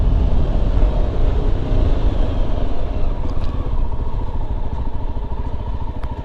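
A Yezdi Adventure motorcycle engine rumbles steadily and close by, a dense continuous drone with no pauses and no voices.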